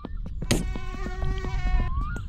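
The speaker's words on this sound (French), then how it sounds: "Par contre, ces moustiques, ça me saoule." Mosquitoes whine in the video game My Summer Car, a close, steady high-pitched buzz with wavering tones over a low background rumble and a brief thump near the start.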